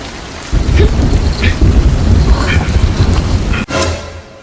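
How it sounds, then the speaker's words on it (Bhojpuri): Heavy rain pours down through a thunderstorm, a dense steady hiss of drops on surfaces with low thunder rumbling beneath and a sharp crackle near the end. "बारिश आवत रहलो"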